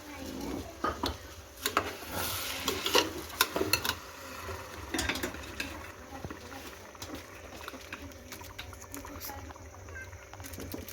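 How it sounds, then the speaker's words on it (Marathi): Biryani masala stirred in a pan, with scraping clatters and clinks of a spoon against metal coming in irregular bursts, busiest early on, then lighter, softer stirring over low kitchen background. "हलवून घेऊया, मस्त एकदम मिक्स करून घेऊया."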